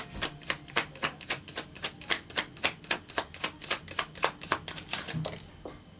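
Tarot cards riffle-shuffled and flicked in a quick, steady run of about twenty crisp snaps, close and fairly loud, tapering off near the end with no talking.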